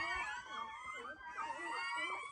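A dog whines and howls in drawn-out, wavering high cries, close by and fairly loud, with some faint human voice mixed in.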